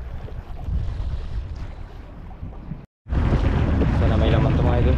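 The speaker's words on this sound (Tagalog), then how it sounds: "Alon." Sea waves at night under a fairly strong northeast wind: steady, loud rushing surf and wind buffeting the microphone, broken by a brief cut, with people talking nearby.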